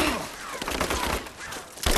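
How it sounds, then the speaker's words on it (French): Gunfire in a forest battle in Rise of the Tomb Raider, dense bursts of shots and impacts at moderate loudness, with a heavy thud at the very end. "Il faut un tir de couverture."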